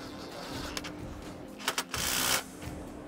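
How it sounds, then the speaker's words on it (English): A 13mm socket wrench tightens nuts onto M8 bolts while mounting a satellite dish to a metal roof, giving a few quick ratcheting clicks followed by a short grinding burst over steady background noise. "Now I'm going to use my 13mm or 1/2 inch socket to tighten the nuts atop the bolts."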